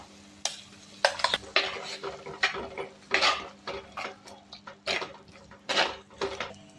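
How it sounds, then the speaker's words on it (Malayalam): Ground coconut masala paste being scraped and stirred into a Kerala-style pearl spot fish curry pan of softened tomato, chilli and onion, with repeated utensil clinks and scrapes against the pan in an irregular rhythm, close and moderately loud. "ഇനി ഇതിലേക്ക് അരപ്പ് ചേർക്കാം"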